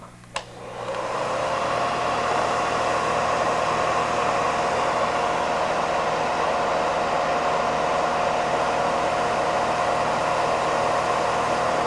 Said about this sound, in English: And here we go with the porous rotor